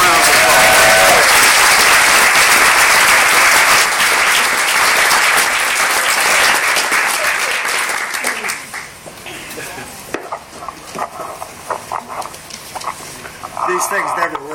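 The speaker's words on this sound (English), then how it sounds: "Let's give it a round of applause." Audience applause for Will Allen at a Growing Food & Justice for All gathering in Taos, loud and sustained for about eight seconds before thinning into scattered claps and faint room noise.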